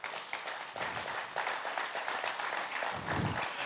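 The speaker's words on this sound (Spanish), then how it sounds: "Dale un fuerte aplauso a Jesús." A church congregation gives a strong round of applause, a dense continuous patter of many hands clapping together that holds steady for several seconds, heard alone at moderate level.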